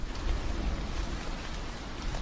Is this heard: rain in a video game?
yes